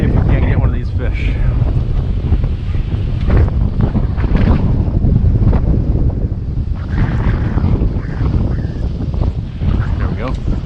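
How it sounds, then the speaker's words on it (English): Gale-force wind buffets the microphone outdoors while fishing in Wisconsin's Driftless area, a loud, constant roaring rumble with gusty surges throughout. "this afternoon, as the wind is picking up, it's getting better"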